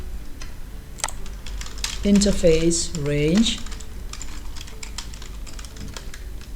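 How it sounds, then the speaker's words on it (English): Rapid clicking of keys on a computer keyboard as a network command for interface range and channel group is typed, close and steady throughout, with someone speaking over the middle of it. "so by typing the command"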